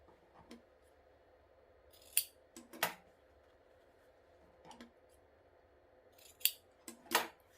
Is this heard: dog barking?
no